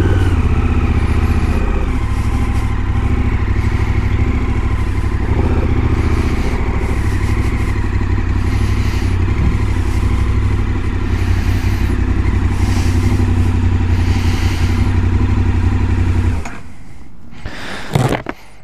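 A KTM Super Adventure S motorcycle riding: a loud, continuous engine drone with wind roar that holds steady for most of the clip, then cuts off abruptly, leaving a few faint clunks.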